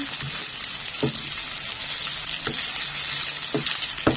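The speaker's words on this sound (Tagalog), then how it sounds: "Ilagay na natin yung karne. Haluin." Pork sizzles loudly and continuously in a pan for a mung bean stew, with a spoon striking and stirring in a few evenly spaced knocks over the frying.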